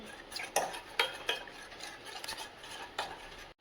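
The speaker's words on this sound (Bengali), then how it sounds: "এবার এটা আমি ভালোভাবে মিশিয়ে নেব" Egg being mixed with salt, cumin powder and black pepper in a bowl, a quiet run of spoon clinks and scrapes against the bowl at an irregular beat, close and soft, with no talking.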